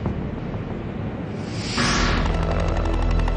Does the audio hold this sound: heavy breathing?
no